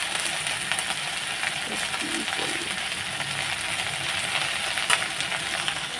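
Pieces of katla fish fry in hot oil, giving a steady, close crackling sizzle with a few soft utensil taps and no talking.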